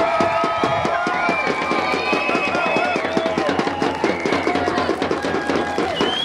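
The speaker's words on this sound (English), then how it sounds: "let's give our thanks and a big round of applause to Dean" A large crowd at a speech event claps continuously, a dense steady patter of applause with some cheering mixed in, loud and sustained throughout.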